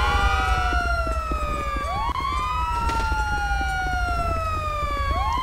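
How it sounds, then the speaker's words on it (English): A police siren wails in the video game GTA V with the LSPDFR mod, loud and close. Repeated rising and falling sweeps run throughout over a low engine drone. "God, I'm hoping it's my siren."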